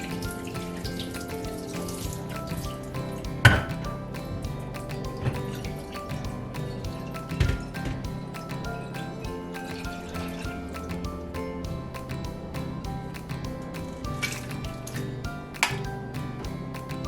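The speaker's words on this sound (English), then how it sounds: "I'm going to turn off my heat and drain them in my sink." Boiled white beans for sweet bean paste are drained in a kitchen sink, with water running and splashing steadily at close range, dotted by a few sharper clunks and knocks from the pot or strainer.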